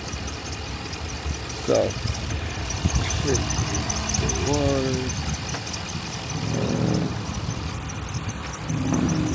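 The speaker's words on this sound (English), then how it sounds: "the Hemi actually sounds decent, bro" A Hemi V8 car engine runs at a dealers-only auction, a low idling rumble beneath people talking, with a few short squeals and revs rising over the hum.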